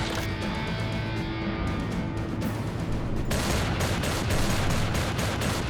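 Gunfire in the shooter game Serious Sam 3: BFE: dense, rapid shots crackling over a loud, constant din of combat. The shooting sharpens into quick repeated bangs during the second half.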